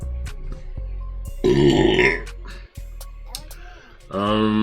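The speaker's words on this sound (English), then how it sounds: "Yeah, I need to burp." A person burps loudly in two distinct bursts, one long and one shorter, with clicks and faint tapping around them and no talking.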